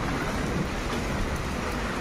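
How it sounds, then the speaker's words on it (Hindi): A downpour in Delhi roars continuously, thick and even, rain drumming hard on surfaces nearby with no one speaking. "बहुत तेज से बारिश आ रही है।"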